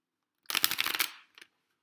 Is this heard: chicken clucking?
no